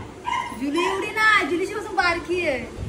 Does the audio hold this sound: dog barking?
yes